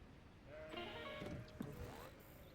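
Sheep bleat in a video game, a couple of quavering calls over a faint ambient backdrop, soft and clear with no speech.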